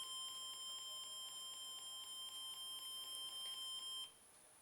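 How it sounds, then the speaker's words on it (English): A homemade burglar alarm prototype sounds off with a rapid, regular string of high electronic beeps, steady and fairly close, running for about four seconds before cutting out. "Oh yeah, you can see the alarm sounds."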